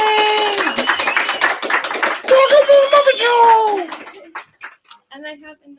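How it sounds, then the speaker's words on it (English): An audience at an art auction claps for an artist's work, a brisk burst of close clapping under excited voices and whoops that thins into a few scattered claps. "Big round of applause for James."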